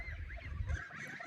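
A goose on a farm gives a short, low nasal honk, close and fairly quiet, with nothing else going on.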